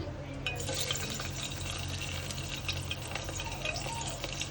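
Green chillies fry in hot oil in a pressure cooker, a continuous close sizzle with light stirring scrapes over the top and no talking.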